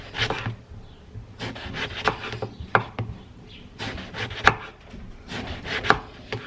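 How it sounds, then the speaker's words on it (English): A knife cuts eggplant into slices on a cutting board, a run of repeated crisp chops and scraping strokes in an uneven rhythm, close and fairly loud, with no talking. "So I just go through and I cut them into slices."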